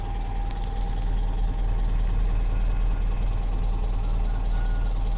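A carbureted Toyota engine runs loud and close with a steady, droning rumble and no clear surge in pitch.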